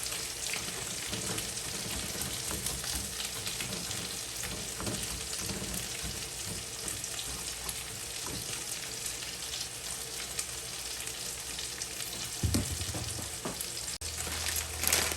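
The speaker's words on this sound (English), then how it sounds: "I'm going to add that bag of riced cauliflower that I boiled earlier. And just start sauteing that up a little bit." Boiled riced cauliflower sautéing in oil in a pan, a soft, even sizzle that hisses steadily and quietly throughout, with a few brief knocks of a utensil near the end.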